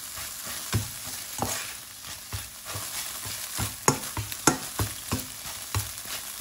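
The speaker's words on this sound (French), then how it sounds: "je commence à mélanger le tout en les écrasant" Eggs and rice mixed and crushed in a hot wok for chicken fried rice, a soft continuous sizzle under repeated scraping strokes and light knocks of the utensil, close, with no talking.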